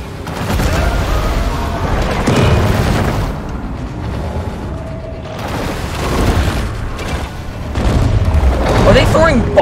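Deep booming bomb explosions in the video game Maneater rumble in several heavy swells amid other game noise, with a voice talking over them.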